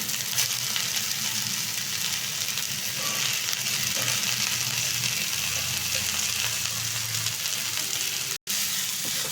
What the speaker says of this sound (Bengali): এবার আমার যে ভিজিয়ে রাখা ডালটা ছিল এই ডালটাকে আমি ছাড়ছি